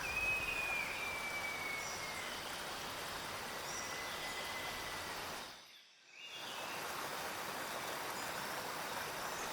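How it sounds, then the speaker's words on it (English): The Buenos Aires Waterfall in a rainforest pours with enough force to raise wind and mist, a steady dense roar of rushing water that briefly dips to near silence partway through before resuming. "This waterfall falls with such strength that it produces gusts of wind and mist."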